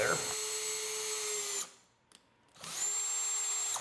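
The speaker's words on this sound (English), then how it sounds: "we're going to drill the board" A power drill whines at a steady high pitch as it bores into a board, pauses briefly, then spins up again into a second run; close and fairly loud.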